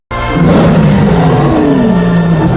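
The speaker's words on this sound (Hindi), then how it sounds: "जैसे ही शेर दहाड़ता है तो मूवीज में हमें उसकी आवाज ऐसे" Lion roar edited for movies, one loud sustained roar that starts abruptly and holds with a deep falling growl for over two seconds, with no voices.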